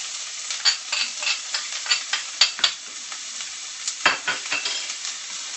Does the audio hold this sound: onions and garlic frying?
yes